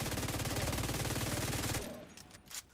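Rapid, loud automatic fire from the Pestilence, an all-red Striker build with 128 weapon handling, in The Division 2, a dense steady burst for nearly two seconds that cuts off into quieter game sounds and a brief clatter.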